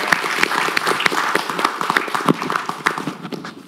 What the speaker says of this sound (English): Please join me and give a big round of applause to our wonderful guests